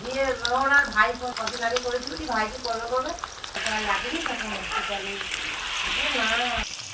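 Potatoes and spices sizzle and are stirred in a pan for a boal fish curry, a steady crackling fry with scraping strokes, while a voice talks over it throughout.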